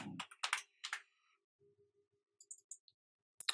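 Keystrokes on a computer keyboard typing a short search term in editing software, a few quick clicky bursts near the start, then sparse taps and a final click, close and fairly quiet.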